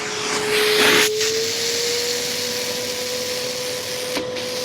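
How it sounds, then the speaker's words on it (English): An Oase Pondovac 5 pond vacuum sucks silt from the bottom of a garden pond, a loud steady motor whine with rushing suction noise, briefly surging near the start, close by and with no speech. "Now I'm using my trusty Awaza Pondovac 5 here, which is very efficient at picking up silt, leaves and other matter that's sitting on the bottom of the pond"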